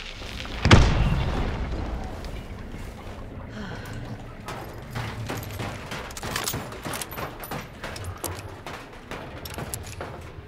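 A bomb blasts in the video game Hunt: Showdown with one heavy boom early on, followed by rattling gunfire bursts and crackling debris, with some voices faintly underneath.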